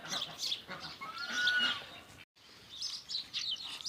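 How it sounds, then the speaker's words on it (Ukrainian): Small birds chirp around a spring farmyard that also keeps ducks and geese. Faint, scattered tweets and short calls come from a distance, with a brief silent gap midway. "пташечки щебечуть"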